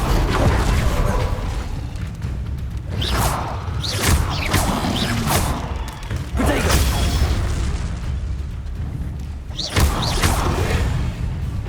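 Incendio fire spells cast in Hogwarts Legacy, a string of sharp whooshing bursts and thumping impacts over a dense game soundscape, with a few loud hits spaced a second or two apart.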